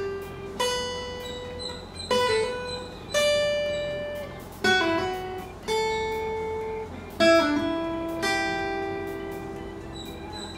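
An electric guitar picks out a slow improvised minor-scale melody, one plucked note at a time, each ringing and decaying before the next, about eight notes over ten seconds, clean and close with no voice.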